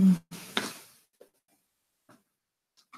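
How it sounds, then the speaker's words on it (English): A tarot or oracle card deck being shuffled: a brief papery riffle and rustle lasting under a second, then a few faint, scattered card taps in near silence. "So I am going to shuffle."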